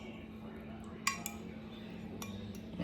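Metal utensil scraping and clinking against a dish while garlic is mashed into a paste, quiet and close, with a couple of sharp clinks and soft smearing strokes.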